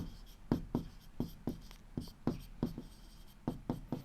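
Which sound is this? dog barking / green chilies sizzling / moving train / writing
writing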